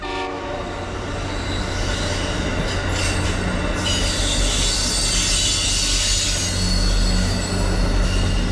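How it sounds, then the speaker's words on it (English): Metro North Danbury branch shuttle train led by a CT Rail EMD GP40-3H locomotive, arriving at South Norwalk station onto track 3, with loud continuous rumble, horn tones and high wheel squeal throughout. "the slower Metro North Danbury branch shuttle 6862 arriving at South Norwalk onto track 3"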